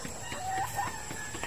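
Backyard chickens cluck with a thin, brief rooster-like call rising over a steady farmyard hum, fairly faint and close, no talk.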